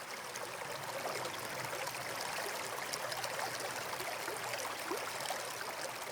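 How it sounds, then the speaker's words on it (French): Water runs steadily in a small shallow stream, an even, unbroken trickling rush heard nearby with no voices or other sounds. "Portez votre attention maintenant sur le courant de ce petit ruisseau"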